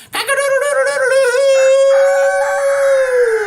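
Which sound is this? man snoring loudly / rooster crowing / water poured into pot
rooster crowing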